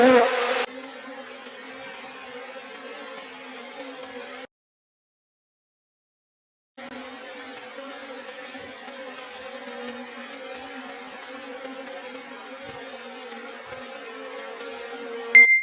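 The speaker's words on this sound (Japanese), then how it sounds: "分蜂群が町箱に入居する様子です。" A swarm of Japanese honeybees moves into a wooden hive box, a steady close insect drone that cuts out completely for about two seconds midway, then resumes just as thick and even.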